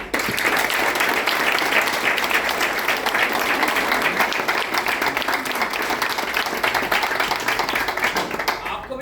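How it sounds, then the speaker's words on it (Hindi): A business gathering audience bursts into loud, dense, sustained applause that fills the room evenly for several seconds before slightly thinning toward the end. "उनके लिए एक जोरदार तालियां चाहूंगा"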